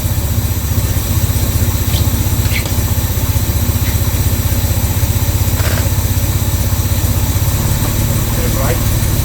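A Series 1 Jaguar XJ6 engine runs steadily at idle, a loud, close, even rumble that holds throughout with faint clicks and knocks on top and no talking.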